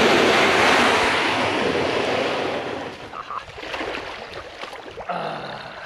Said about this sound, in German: So, Boot ins Wasser und dann geht's weiter.